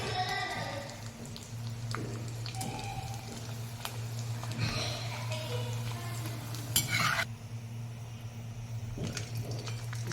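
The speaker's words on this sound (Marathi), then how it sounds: "आता ही चकली तळूया" Chakli deep-frying in hot oil for a fasting snack, a soft continuous bubbling sizzle under a low steady hum, with occasional utensil clinks and a brief louder scrape.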